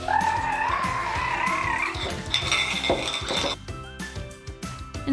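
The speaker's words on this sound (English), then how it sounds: "we gather the jars" Glass jars clink and knock against one another as they are gathered in a home kitchen for homemade applesauce, a busy cluster of bright taps over background music, close and moderately loud.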